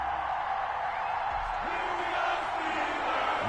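A stadium crowd roars in an NFL video game before a Cincinnati Bengals versus Pittsburgh Steelers matchup, a broad continuous cheering wash with scattered shouts and a brief low thump.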